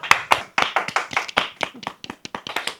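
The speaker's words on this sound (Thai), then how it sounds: "ขอเสียงปรบมือนะครับ" Scattered clapping from a small group after an auction of a gold egg closes, a few close, uneven bursts of hand claps with short gaps between them.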